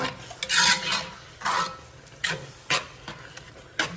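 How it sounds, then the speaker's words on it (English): Seasonings being stirred into lasagna sauce in a pot, heard as a series of short scraping, rasping strokes that come and go in uneven bursts, fairly close and moderately loud, with no talking. "Stir that around. Get the seasonings all incorporated."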